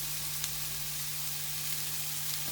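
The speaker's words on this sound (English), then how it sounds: "you can hear that tossing sound" Zucchini and taco filling sizzle steadily in a frying pan, a constant close hiss of frying with faint light clicks from tossing, no voices.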